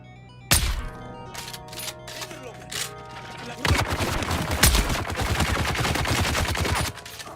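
Gunfire in the video game Dune, an opening heavy shot followed by scattered single shots and then a sustained rapid burst of automatic fire lasting several seconds.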